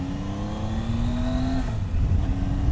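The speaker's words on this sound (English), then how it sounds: "The throttling on this bike is far smoother than the Yamahas." Triumph Tiger 800 XRt motorcycle from 2018 accelerating, its engine note rising steadily in pitch, dipping briefly as it shifts gear and then climbing again, loud and continuous from a riding perspective.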